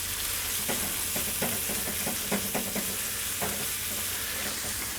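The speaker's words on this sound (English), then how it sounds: "Going to give that a stir." Cauliflower fried rice with garlic stirred in a frying pan, a steady close sizzle with repeated scraping stir strokes across the pan, no talking.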